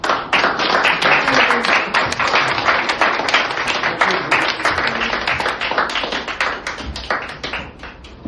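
Sustained audience applause at a gallery exhibition event, many hands clapping densely and loudly throughout, holding steady before thinning slightly toward the end.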